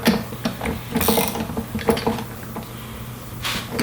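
A 13 mm wrench tightens a nylon lock nut onto a bolt holding a rear cargo bin on a Polaris RZR, giving a series of close, quick metallic ratcheting clicks in short bursts.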